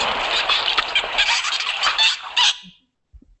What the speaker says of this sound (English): these are specifically burst pulse squawks